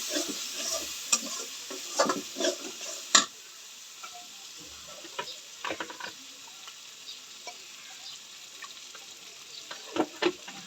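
Spice paste with turmeric and sour yogurt sautés in a pan, a soft continuous sizzle punctuated by intermittent scraping and tapping stirs of a spoon, close by, with quiet gaps between bursts and no voices.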